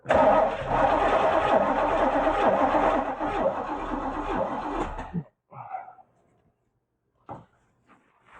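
An old Chevrolet Camaro barn find, unstarted for 32 years, cranks and runs loud and close for about five seconds, then cuts out, leaving a few faint knocks and brief low voices.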